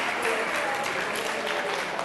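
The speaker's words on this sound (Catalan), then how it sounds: "un aplaudiment per aquest equip i per la Marta." A studio audience at a Catalan spelling quiz show claps steadily for a team, dense sustained applause filling the short moment with no pauses.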